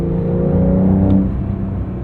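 A 2023 Porsche 911 Carrera T with a manual gearbox and forced induction revs strongly toward redline, a steady close engine drone with layered harmonics that holds and rises briefly before easing off.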